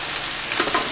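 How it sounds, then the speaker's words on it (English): Vegetables sauteing in a pan for turtle soup, a steady close sizzle with a couple of brief crackling pops near the end, no talking. "So we'll get those sauteing"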